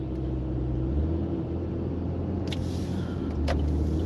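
A car speeds past on the highway, heard from inside a moving vehicle as a steady low road rumble and engine drone with a faint whoosh.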